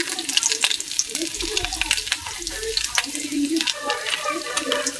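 Garlic and 4-5 dried red chillies frying in hot mustard oil, a steady close crackling sizzle with dense popping spatter throughout, loud and continuous with no talk over it.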